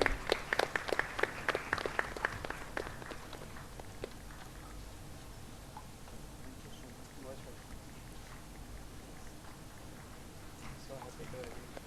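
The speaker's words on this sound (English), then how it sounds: "Please have a huge round of applause for him." Applause at a careers seminar for a medical college admissions panelist, a burst of clapping from an audience that is brisk and fairly close at first, then thins and fades into a low murmur.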